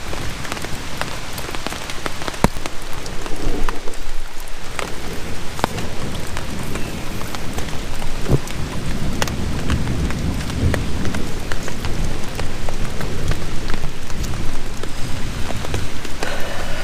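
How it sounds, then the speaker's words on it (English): Steady heavy rain pattering at a hammock campsite in Kentucky's Red River Gorge, with a low rumble of thunder rolling underneath, continuous throughout with no voices. "it continues to storm, rain, thunder, lightning."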